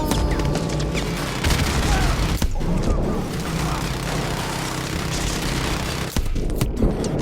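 Gunfire and heavy explosions in a shooter video game featuring a minigun and rocket launcher, with dense repeated booms and sharp crashes hitting every second or so, loud and close, mixed with faint voices.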